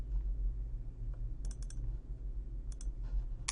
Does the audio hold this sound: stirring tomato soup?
no